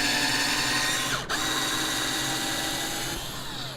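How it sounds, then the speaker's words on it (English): A power drill bores a pilot hole into sawhorse wood, whining loudly and steadily up close, dipping briefly partway through as the bit bites, then continuing and tapering slightly at the end. "With this one, I'll do a pilot hole, right? So it goes straight down in the middle."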